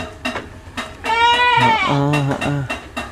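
Etawa goats bleat on a farm, with several drawn-out wavering bleats from nearby goats and short bleats and thumps around them.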